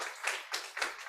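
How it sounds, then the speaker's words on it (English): Audience clapping at a startup pitching competition's final day, arriving in several distinct bursts of hand claps, fairly close and moderately loud, with no talking over it. "we have to give applause to Perpita, Mr. Fendi, and other friends."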